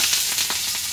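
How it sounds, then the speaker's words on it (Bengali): Chili peppers frying in a pan for a mashed bhorta give off a steady, close hiss of sizzling oil with a few brief louder crackles, and no voices. "মরিচ ভাজতেছে ভর্তা করবো"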